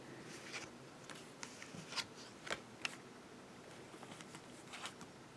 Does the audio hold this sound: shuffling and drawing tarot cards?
yes